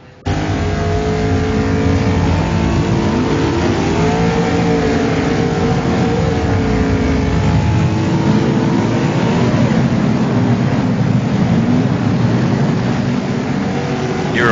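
Race cars lap the Chicagoland oval in a racing video game, engines droning and whining close and loud in overlapping pitch sweeps as the pack roars past continuously.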